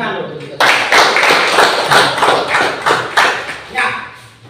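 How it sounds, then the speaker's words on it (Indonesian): A classroom of students claps hands together in a short, lively burst that rises suddenly, pulses unevenly for a few seconds, then tapers off. "Oke, tepuk tangan dulu."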